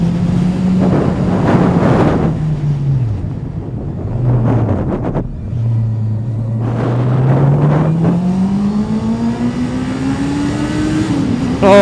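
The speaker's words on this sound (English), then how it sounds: "hear that 4-stroke, 4-cylinder engine" A four-stroke four-cylinder motorcycle engine revs on a road ride, its pitch rising and falling, with heavy wind noise rushing over it.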